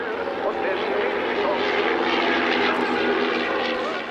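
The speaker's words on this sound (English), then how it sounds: "Moth was originally built to be a civilian aircraft in the beginning of the 1930s." A de Havilland Tiger Moth propeller biplane from the 1930s flies at the Göteborg Aero Show, its engine droning steadily and loudly with a slight swell midway, with a voice talking over it.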